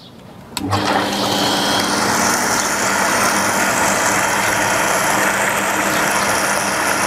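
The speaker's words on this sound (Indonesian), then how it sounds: "kita nyalakan dulu pompa" A jet water pump switches on with a sharp start, then runs at a loud, steady mechanical whine and hum, close and unbroken to the end.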